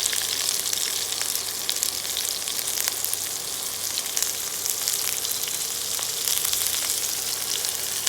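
Chopped large onion frying with ginger and garlic for ginger chicken, a steady close dense sizzle with crackle that holds evenly throughout, no talking.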